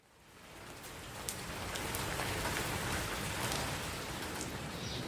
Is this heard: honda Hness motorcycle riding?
no